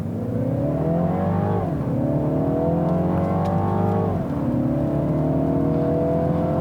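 A 2018 Mini Cooper Clubman S engine revving up through the gears, pitch climbing steadily, dropping at each shift, then rising again; loud and close.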